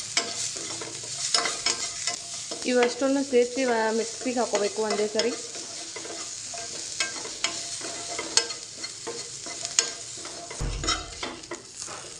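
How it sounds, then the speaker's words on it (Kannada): Whole spices (cinnamon, cloves, peppercorns, cardamom, fennel and star anise) with cashews stirred in a hot pan for kaju curry, giving a soft, steady sizzle and scraping, with someone talking over it and a brief low thump near the end. "ಚಕ್ಕೆ, ಲವಂಗ, 5 ಮೆಣಸಿನಕಾಳು, ಏಲಕ್ಕಿ, ಬಡೆ ಸೋಪು, ಮತ್ತು ಚಕ್ರಮಗ್ಗು ಇವನ್ನೆಲ್ಲ ಹಾಕ್ತಾಯಿದ್ದೀನಿ"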